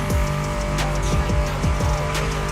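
Mustang muscle car engines roar in The Crew Motorfest, loud and continuous, with repeated sweeping revs and gear changes and the squeal of tires through several fast passes.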